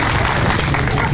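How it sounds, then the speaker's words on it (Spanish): A crowd applauds at a school alumni band's gala concert, a dense, loud burst of clapping over a brief moment, with voices mixed into the noise. "¡Fuertes aplausos!"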